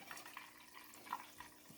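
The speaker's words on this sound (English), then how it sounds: "pour it through the strainer" Melted ghee trickles through a strainer, a soft, steady liquid pour with faint splashes, quiet and close.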